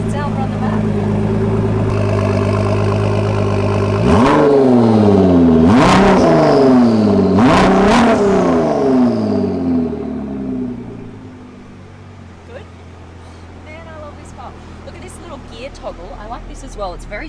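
A Ford GT's engine fires up and is revved three times in sharp, rising bursts over a low idle, then settles and fades into quieter background noise while someone talks nearby.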